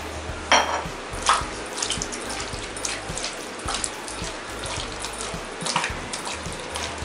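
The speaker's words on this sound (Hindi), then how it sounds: "तो अब इसमें काफ़ी सारा हम विनेगर डाल देंगे और एक बार इसको विनेगर से भी धो लेते हैं।" Chicken pieces being washed with vinegar in a kitchen sink: water splashes and runs steadily, close and fairly loud, with a few sharper splashes and clatters as the pieces are handled.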